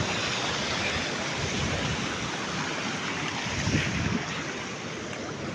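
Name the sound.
river water flowing at Karur falls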